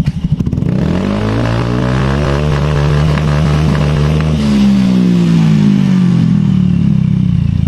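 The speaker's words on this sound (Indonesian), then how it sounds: "Sekarang kita geber" A 2019 Honda Beat scooter engine revs up from idle, a loud, close, steady drone rising in pitch and holding high with no voices.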